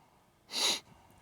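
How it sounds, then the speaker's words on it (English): A single close, sharp nasal sniff, one brief breathy burst lasting about a third of a second against a quiet background. "I'm so sorry for the sniffling"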